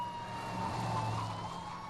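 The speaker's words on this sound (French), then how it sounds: "j'entends des sirènes de police" A police siren in a video game, Murdered: Soul Suspect, wails steadily in the background, its tone rising and falling over a low ambient hum.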